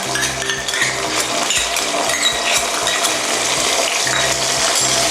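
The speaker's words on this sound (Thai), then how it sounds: "ทีก็ผัดซอสนะคะ ให้เข้ากัน" Red-wine chicken wing sauce of tomato ketchup, oyster sauce and sugar stir-fried in a pan, giving a steady loud sizzle with scraping and clinking utensil strokes throughout.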